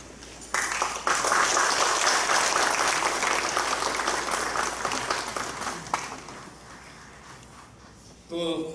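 Loud applause from the audience at a church assembly as elders stand to greet, starting abruptly, holding strong for several seconds, then fading before a voice starts speaking over it at the end.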